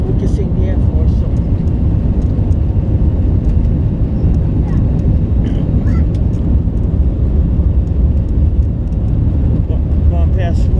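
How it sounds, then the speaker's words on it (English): Airliner turbofan engines roaring through the takeoff roll, a loud continuous rumble that holds steady from inside the cabin, with people talking over it. "Turbofans sucking in all that air, giving thrust out the back, sending us into the wild blue yonder."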